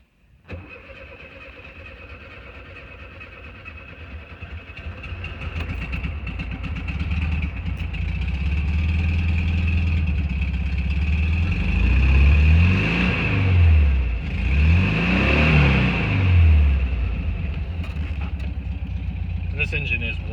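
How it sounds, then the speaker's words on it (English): A warm 1974 Volkswagen Karmann Ghia engine with a new carburetor and a bad muffler leak starts up, settles into a rough low-toned idle, then revs up twice in swelling surges, loud and close throughout. "So we have pretty bad muffler leak. That's that low note that makes it sound like a Harley."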